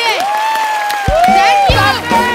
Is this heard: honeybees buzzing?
no